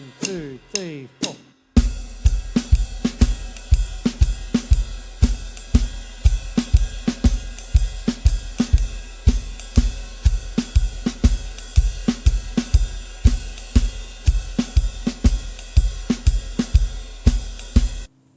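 A jazz drum beat played on a full drum kit, with steady ride-cymbal wash over regular bass and snare hits at a moderate swing tempo, loud and close. A few quick solo strokes open it before the full groove starts.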